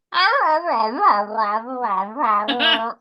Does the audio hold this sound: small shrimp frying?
no